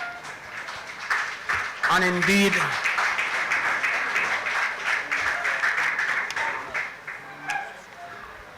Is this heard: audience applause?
yes